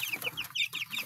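Chickens cluck in quick, overlapping bursts, close and fairly soft, with no one speaking.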